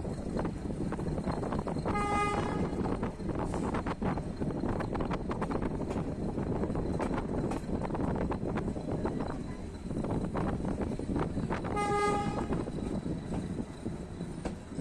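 A decorated metre gauge train on its last run of the Mailani–Nanpara line rolls into Nanpara Junction station, a loud continuous rumble with wind buffeting, its horn sounding twice, early and near the end.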